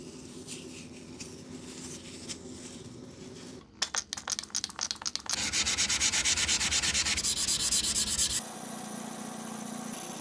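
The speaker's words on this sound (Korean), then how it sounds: "자, 그럼 철솜부터 작업을 시작할게요" Steel wool rubs rust off a knife blade in steady back-and-forth scrubbing strokes. The sound is close and loud, briefly broken into short rasping passes before continuing as harsher, denser scouring with no talk.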